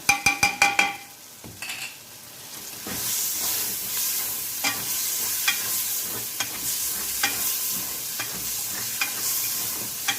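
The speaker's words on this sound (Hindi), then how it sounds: "ये देखें अब ये भून रहा है ना।" Turmeric, salt, chillies and spices frying in a pan start with a few metallic clinks, then build into a loud, steady sizzle with stirring scrapes and crackles, close up and with no talking.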